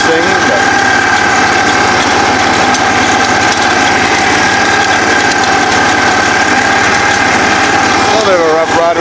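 A Ford riding lawn mower with chained, aired-down tires runs loud and steady, its engine droning with a constant rattling vibration from close by.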